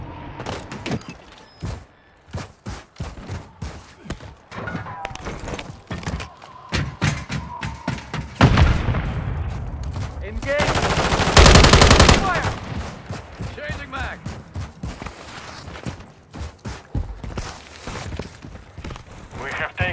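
Rapid automatic gunfire and bursts of shots in the video game Modern Warfare 3 multiplayer, loud and dense throughout, with a heavy sustained volley near the middle and scattered footsteps and thuds between bursts.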